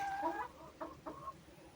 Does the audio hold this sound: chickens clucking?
yes